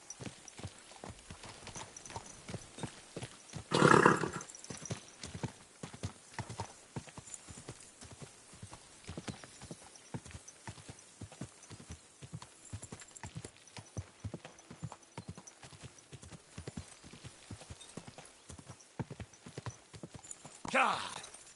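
Steady clip-clop of horse hooves trotting throughout in the video game Kingdom Come: Deliverance II, with a brief louder burst near the start and another near the end.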